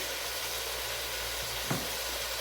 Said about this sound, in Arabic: طبعا تشويحة اللحمه دي